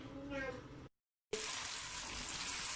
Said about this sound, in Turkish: Soğan ve salçamı güzelce kavuruyorum.